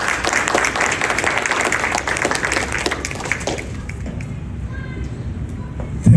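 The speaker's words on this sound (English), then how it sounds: "Let's have a round of applause for them." A round of applause from a gurdwara audience at a college application talk, dense clapping that fades to scattered claps, then a brief bump at the very end.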